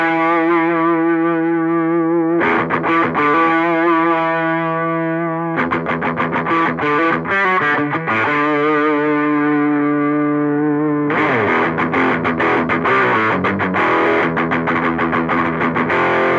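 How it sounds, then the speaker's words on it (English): Electric guitar played through the high-gain, Marshall-style stack setting of a Boss Dual Cube LX amplifier, with heavily distorted sustained chords and chugging, rhythmic palm-muted passages, loud and alone. "Let's switch now to the high gain stack. This will be more like a Marshall style, but with really high gain sound."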